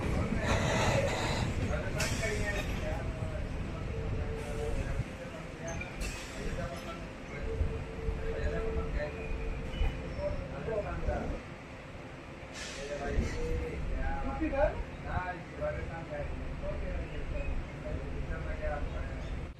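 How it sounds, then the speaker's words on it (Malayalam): A DEMU train pulls out of Salem Market railway station on the Salem to Vriddhachalam run, heard from on board as a steady low rumble with hissing and clanks, and faint voices in the background. "സേലം മാർക്കറ്റ് റെയിൽവേ സ്റ്റേഷൻ ഇപ്പോൾ വീണ്ടും പുറപ്പെട്ടിരിക്കുകയാണ്"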